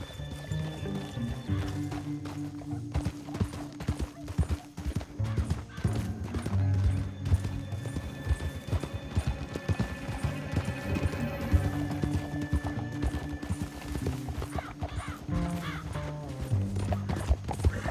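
Horses gallop in Red Dead Redemption 2 with steady, fast clip-clopping hooves running throughout, mixed with music and ambient game sound, and an occasional whinny.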